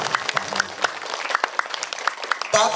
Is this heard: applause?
yes